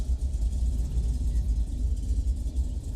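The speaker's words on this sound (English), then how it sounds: "Heard for a moment 1 or 2 of the drivers just rev their engines" Race car engines in iRacing's Pro 2 short-course series at Crandon, a steady low rumbling drone held throughout with slight wavering, fairly loud and continuous with no voices.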